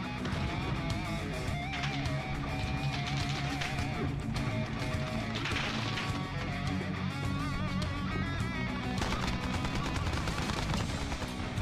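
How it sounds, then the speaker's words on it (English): Gunfire crackles in XCOM: UFO Defense as repeated shots and bursts ring out over a dense, busy game soundtrack, loud and constant from start to finish. "Somebody's shooting from over here."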